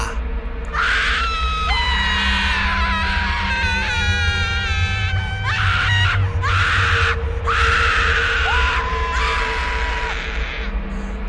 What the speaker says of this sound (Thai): เสียงกรีดร้องของผู้คนจำนวนมาก ก็ได้ดังสนั่น ลั่นไปทั่วป่า